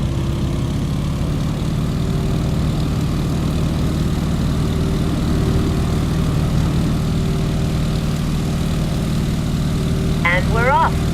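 Stearman biplane in Microsoft Flight taking off: a steady, loud radial engine and propeller drone that holds at full power throughout, with a brief rising whine near the end.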